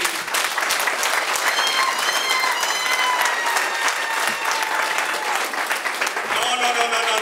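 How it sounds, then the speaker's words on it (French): Guests at a 50th birthday party applaud the honoured mother, loud sustained clapping from a close crowd with voices and whoops mixed in throughout. "est-ce que tous ensemble à l'unisson, nous pouvons l'applaudir, s'il vous plaît?"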